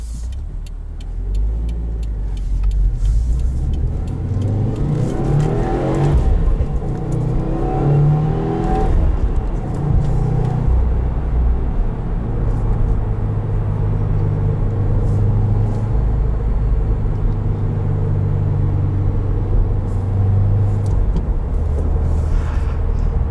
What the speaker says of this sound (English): 268 horsepower from this turbocharged flat 4, known as the Boxer engine